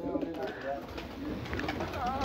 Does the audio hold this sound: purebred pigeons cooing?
yes